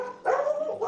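A dog from the video game Final Fantasy XV lets out a short, loud, close bark in a single burst, with no talking.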